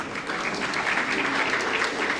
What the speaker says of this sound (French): qui mérite des applaudissements, mesdames et messieurs